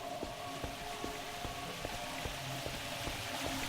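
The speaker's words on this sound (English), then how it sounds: "I was hearing water, okay." Water flows in a Source engine mod map, a faint, steady wash of trickling and splashing with soft drip-like ticks scattered through it, and no talk.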